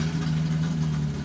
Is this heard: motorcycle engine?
yes